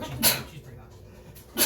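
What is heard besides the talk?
sneeze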